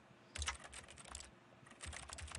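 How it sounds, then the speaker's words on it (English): Rapid keyboard typing from the video game The Stanley Parable, two loud bursts of fast clattering keystrokes separated by a short pause, close and alone with no talk. "Sounds like I'm typing really fast."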